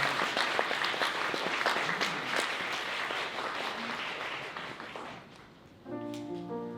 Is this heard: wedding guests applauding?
yes